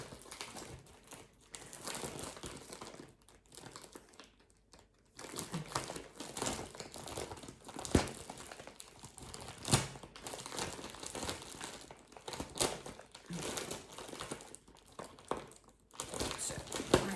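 Plastic packaging crinkles and rustles steadily while being cut and opened during a Temu accessories unboxing with safety eyes, close and fairly quiet, with rhythmic crunchy bursts and brief pauses, no talking.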